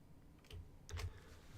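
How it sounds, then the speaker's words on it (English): Keys on a computer keyboard are tapped in a few quiet, close clicks, with two small bursts in a near-silent room. "You should be able to see what I'm typing"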